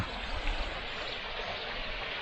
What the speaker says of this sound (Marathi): तो मगाचा धबधबा